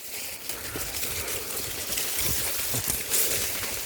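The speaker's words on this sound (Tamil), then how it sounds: "இப்போ கிணத்தண்ணி தான் பாஞ்சிட்டு இருந்ததை நீங்கள் பார்த்தீங்க." Steady rushing and trickling well water, like a continuous stream pouring out on a sugarcane farm, fairly close and even throughout with no voices.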